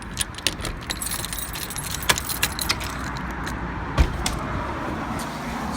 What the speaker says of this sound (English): I'm hoping I've got the right keys